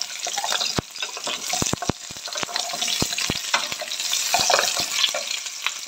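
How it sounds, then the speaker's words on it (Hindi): Grated carrots for gajar halwa sizzle steadily in a hot pan, with sharp scraping clicks from a spoon stirring them, close and continuous. "ये देख सकते हैं आप गाजरें। ये देख सकते हैं। इसे आप थोड़ी सी चलाएं।"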